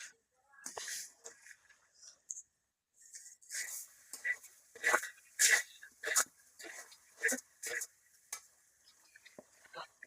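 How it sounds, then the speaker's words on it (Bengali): Cabbage fritter batter with sugar being mixed by hand in a home kitchen, giving intermittent wet squelching and slapping bursts with pauses, fairly close and moderately loud, with faint background voices. "আর আমি হাতে ভালোভাবে মিশিয়ে দিতেছি"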